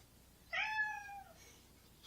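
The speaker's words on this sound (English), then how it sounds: "My cat is trying desperately to get my attention." A house cat lets out a single clear, drawn-out meow for attention, close by against quiet room noise.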